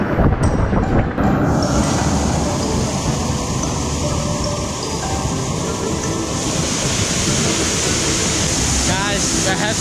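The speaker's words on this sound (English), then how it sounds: "You can really feel the power of the fall of the water" Roaring rush of Tiu Kelep waterfall in Lombok heard up close, a loud, continuous broadband torrent of falling water that never lets up.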